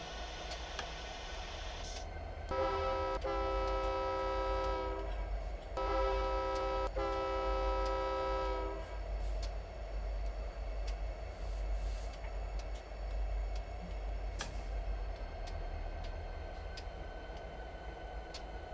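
Union Pacific SD70M diesel locomotive on Donner Pass in Train Simulator, with a steady low engine rumble under two long blasts of a multi-tone air horn, then continued rolling drone and faint clanks.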